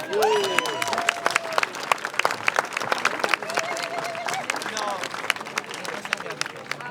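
A crowd at a march for Gaza in Pau applauds loudly and continuously, with whistles and cheers rising over the sustained clapping.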